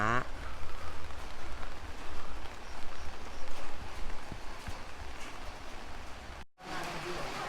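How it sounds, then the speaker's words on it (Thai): Steady, soft hiss of light rain falling outdoors in misty mountains beside the Wa River in Nan, Thailand, a dense even patter with faint background noise and a brief dropout near the end. "ตอนนี้ฝนลงอยู่"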